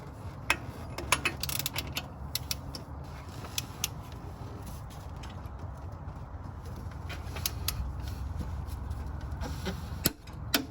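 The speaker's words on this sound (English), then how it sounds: "Now I'm going to get on here with my torque wrench, and I'm going to torque it to 181 foot-pounds." Torque wrench tightening a bolt to 181 foot-pounds on a Toyota/Lexus 2UZ-FE 4.7-liter V8 during a timing belt job: close, scattered mechanical clicks and ratchet-like ticks over a steady low workshop hum, with no talking.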